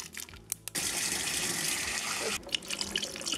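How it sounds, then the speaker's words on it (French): Water runs steadily from a tap in a home kitchen into a blender holding espresso and ice, a continuous rushing pour that starts abruptly, holds for about two seconds, then stops with a few trailing clinks. "Rajouter un petit peu d'eau pour être sûr que ça mélange"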